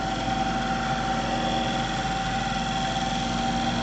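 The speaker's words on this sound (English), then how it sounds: "We can shear scrape with our bowl gouge across there." A bowl gouge shear-scrapes the end grain of a wooden lidded box spinning on a wood lathe, a steady close whirring hum with a faint scraping texture and no talk.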